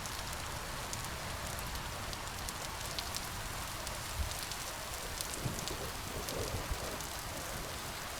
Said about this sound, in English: This never-ending rain.